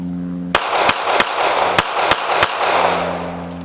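Six loud, sharp shots from a Smith & Wesson Bodyguard .380 pistol fired at a target come in quick, slightly uneven succession at close range, each trailing off in a brief echo, with a low steady hum before the first shot.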